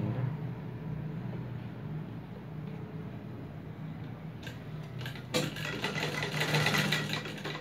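A sewing machine stitches a cloth face mask with a steady low whirring hum, running close and moderately loud throughout, with a brighter burst of rattling activity near the end.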